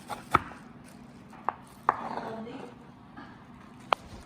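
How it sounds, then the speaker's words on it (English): A knife chopping cilantro and red pepper on a cutting board, four or five sharp, separate knocks at an irregular pace, close and crisp over a quiet room. "Chop 1/4 cup of cilantro. Chop half of red pepper."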